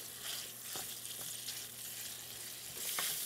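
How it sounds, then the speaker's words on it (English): Homemade Italian sausage with the casing removed browns in olive oil in a pan, giving a steady close sizzle and spatter with occasional scraping as it is broken up. "I'm just gonna put that in and brown it and break it up as it starts to brown"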